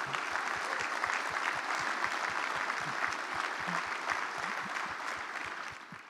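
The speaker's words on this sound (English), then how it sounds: "We ought to clap and acknowledge her work." An audience at a club management association keynote claps steadily, a thick, even patter of many hands with a faint rhythmic thump underneath, continuing without a break.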